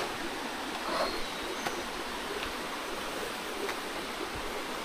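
Steady broadband rush of Banog Falls waterfall in Narra, Palawan, heard from close by as a continuous, even roar of falling water with no talk over it.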